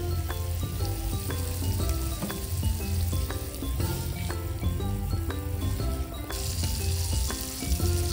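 Masala frying in a pan for a fish curry made with small creek fish, a steady close sizzle that runs continuously under a layer of background music, with no talking.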